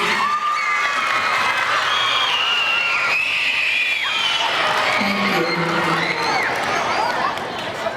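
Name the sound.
audience applause and cheering for veteran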